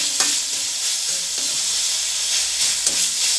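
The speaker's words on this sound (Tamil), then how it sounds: "இது கொஞ்சம் நேரம் நல்லா வதங்கட்டும்." Egg rice masala sautéing in a pan, a loud steady sizzle and hiss with occasional faint stirring scrapes, close up.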